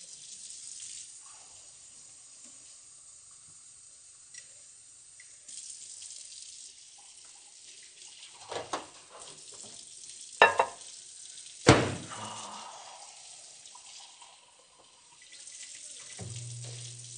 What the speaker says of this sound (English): Vanessa, do you mind if I spill some hot water real quick?